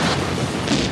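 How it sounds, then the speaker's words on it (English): A big stunt explosion on the set of Die Hard with a Vengeance: a single loud, dense boom with a rumbling body that fills the whole second. "explosions"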